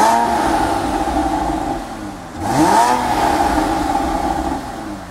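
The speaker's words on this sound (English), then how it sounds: "I'm going to fire it up. You get back there and see if you can hear the exhaust." Engine of a 2012 Porsche Cayman R heard from behind at its center exhaust, a loud steady idle that dips briefly, then revs up with a rising sweep and settles into a strong rumble, with no talk.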